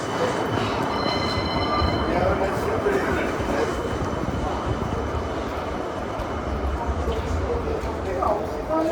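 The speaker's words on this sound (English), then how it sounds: "And listen to the tram." A tram in Birmingham city centre rumbles past nearby with steady low rolling noise and faint wheel squeal, while a person talks over it.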